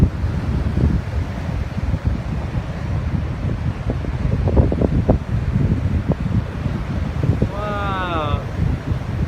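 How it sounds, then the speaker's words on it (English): Gusty wind blowing sand across open ground in a small sandstorm, a steady loud rush with buffeting on the microphone, with a brief high whistling chirp near the end. "Look at the wind blowing all the sand."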